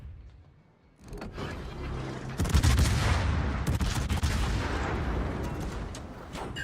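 Naval guns boom and rumble in a World of Warships battle, a quiet start giving way to heavy, continuous salvos and explosions that swell loud and stay dense to the end.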